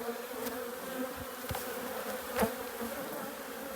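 Calm honey bees buzz around an open hive on a French bee farm, a steady, soft, continuous hum of many wings with faint soft knocks now and then.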